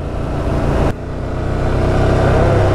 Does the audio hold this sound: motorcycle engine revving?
yes